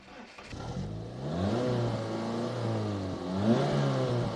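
An Opel Speedster sports car engine cranks and catches after a key-and-button start, then revs up and settles into a steady, rising hum, fairly close and loud, with no talking.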